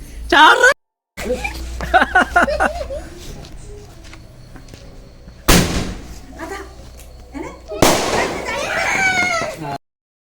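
Small wick firecrackers go off in two loud, sharp bursts a couple of seconds apart, set among people chatting nearby during a celebration.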